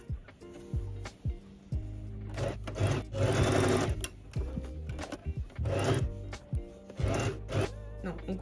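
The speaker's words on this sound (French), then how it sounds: "on va venir coudre ici en laissant une belle ouverture pour venir les retourner après" Sewing machine stitching fabric handles during jacket making, with short bursts of rapid mechanical stitching broken by pauses, fabric handling and soft clicks, fairly close.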